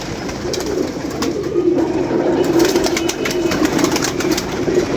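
Pigeons coo together at close range, their low, throaty calls forming a steady murmur, with a few sharper chirps and rustles scattered over it.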